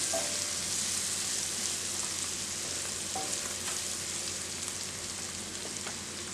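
Spices sizzle steadily in oil in a pan for chicken tikka masala, with a continuous bright frying hiss and occasional faint scrapes from stirring, close and constant throughout with no talking.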